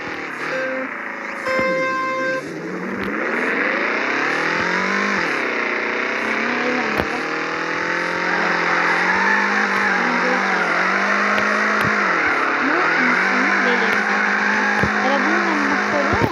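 Engine of a car drifting in a video game, revving steadily with long rising and falling pitch sweeps as it slides, loud and continuous with no talk over it.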